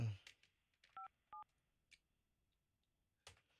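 Phone keypad tones beep in a short run, two clear dual-tone presses and a couple of fainter ones, as a number is dialed to reach a city police chief, with faint breathy voice sounds at the start and end.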